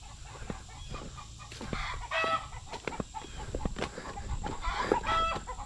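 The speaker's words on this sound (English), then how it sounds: "What y'all clucking at?" Chickens cluck and squawk inside a backyard garden chicken coop, a busy overlapping chorus of near and farther calls with one or two louder bursts.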